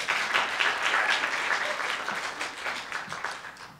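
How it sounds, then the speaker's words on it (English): Audience applause at a Poetry Out Loud school poetry recital, a steady wash of many hands clapping that holds strong throughout and tapers slightly toward the end, with no talking over it. "It's okay to applaud at any time."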